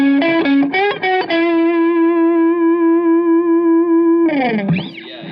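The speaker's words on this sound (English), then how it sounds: "it actually goes into light distortion territory" An electric guitar plays through a Blackbox Overdrive 2 pedal with the gain turned up into light distortion: a few quick picked notes, then a long sustained, buzzy note, ending in a short bend, loud and without speech.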